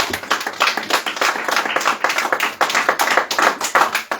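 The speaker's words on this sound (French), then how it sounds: "Je pense qu'on peut applaudir collectivement ce résultat." A small group of people applauds an election result, with close, uneven hand claps forming a lively, continuous round with distinct individual slaps throughout.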